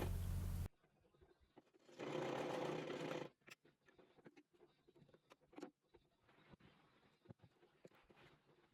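A sewing machine stitches the shoulder seam of a cape gown in a short steady burst of rapid whirring, then falls quiet, leaving scattered light clicks and handling noises close by.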